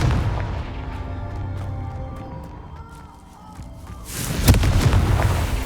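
A Confringo blasting spell goes off in the Hogwarts Legacy video game, a series of sharp, booming impacts over a rumbling backdrop, then a louder burst of blasts near the end.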